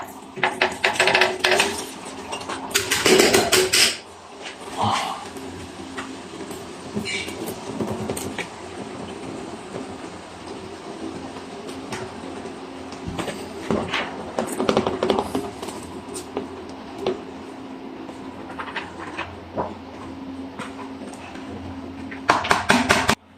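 Rice is poured into a pot of sugar syrup for mutanjan, bringing scattered clinks and scrapes of a spoon against the metal pot and a few louder clatters amid quiet pauses.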